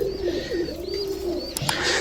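Roller pigeons coo steadily in a low, throaty rumble, with a few higher bird chirps and brief clicks in the background.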